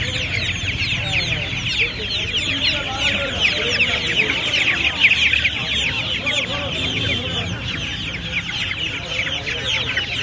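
Australorp chicks and other fowl crowd a busy pet market in Uluberia, their dense, constant high peeping and clucking filling the scene, with occasional low voices of people in the background.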